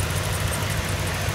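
A car engine idles steadily, a continuous low rumble with a broad hiss on top, close and unbroken with no talk.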